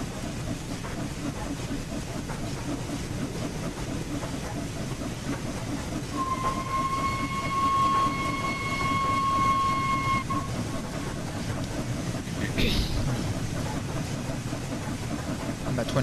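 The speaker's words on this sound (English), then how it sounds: "The sounds of the train, the sounds of the locomotive, the sounds of the wheels on the rails." A video-game steam locomotive, the Flying Scotsman, rumbles steadily throughout with rhythmic mechanical churning of wheels on rails, and a sustained whistle sounds for several seconds midway.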